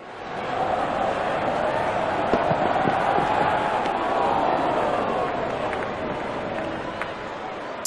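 Cricket crowd at an England versus Australia T20 match cheering as the openers walk out, a steady broad roar of applause and voices filling the stadium throughout, with commentary running over it.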